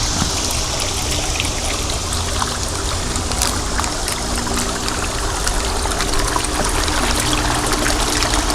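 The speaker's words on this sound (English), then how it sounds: "You got that water falling on water." A large champagne-glass patio fountain with glass panels and a pump, its water falling on water in a continuous, close, fairly loud splashing trickle that never lets up.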